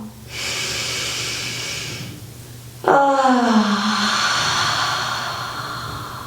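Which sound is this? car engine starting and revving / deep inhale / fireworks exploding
deep inhale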